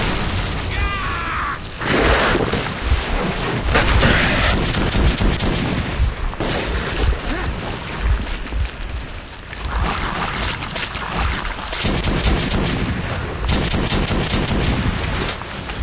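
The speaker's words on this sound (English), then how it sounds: "I don't know what the hell I'm shooting at, really." Sustained gunfire and booming blasts from the video game Metro 2033, dense, loud and continuous, with rattling automatic bursts and heavy impacts layered throughout.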